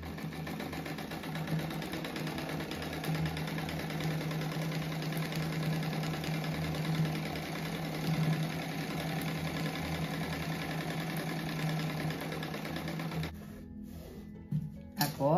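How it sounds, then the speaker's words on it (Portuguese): A sewing machine stitches a fabric strip for a cloth rug, a steady close mechanical whir with a rapid needle rhythm that runs unbroken, then stops near the end with a few clunks. "Agora eu vou costurar uma faixa aqui"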